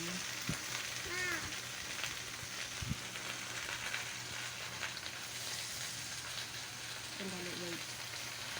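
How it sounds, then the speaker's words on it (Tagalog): Vegetables fry in a pan with a faint, steady sizzle throughout, soft clinks and a utensil knock now and then, and quiet voices in the background. "Ilagay na natin yung gulay"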